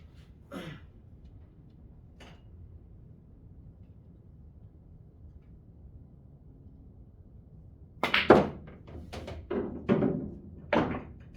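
Pool balls clicking on a billiard table: two isolated clacks early on, then after a quiet stretch a quick cluster of sharp knocks as balls collide and roll, close and moderately loud.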